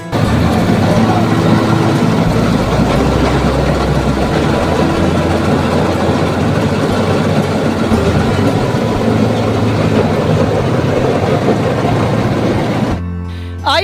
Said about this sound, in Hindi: तो ये इलेक्ट्रॉनिक मशीन है जो ट्रैक्टर के द्वारा चलती है